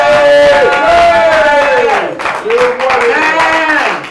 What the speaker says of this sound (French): Merci beaucoup pour vos acclamations.